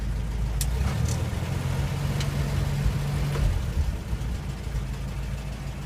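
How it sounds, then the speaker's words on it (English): A 1971 Land Rover Series IIA with a 2 1/4 liter Rover petrol engine idles steadily on choke after starting, a low, slightly rough rumble running continuously and close by with no talk. "then you can hear it's got an electric fuel pump along with a mechanical one. So it starts up."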